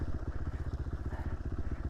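A 450 dirt bike engine runs while riding Idaho single track downhill, its heavy compression giving a loud, close, rapidly pulsing low throb that continues steadily throughout.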